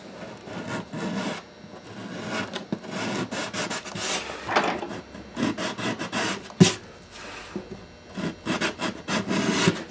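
A wooden guitar bridge being sanded with 180 grit sandpaper, producing repeated close scratchy back-and-forth rubbing strokes in an irregular rhythm, with no speech.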